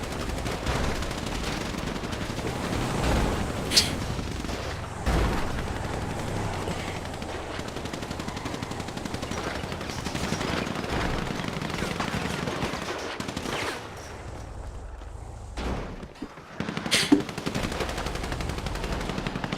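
In a battle royale video game match, gunfire rattles almost without pause: dense machine-gun bursts and single shots, loud and close, with a short lull before more firing.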